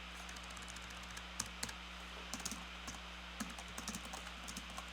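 Quick bursts of light clicks from a computer keyboard and mouse, faint and close, in irregular clusters over a steady low electrical hum.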